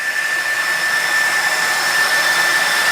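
Cooling fans on a JTS compressor run with a steady, close whir of rushing air, accompanied by a thin high-pitched electric whine, and the sound stays constant throughout with no voices.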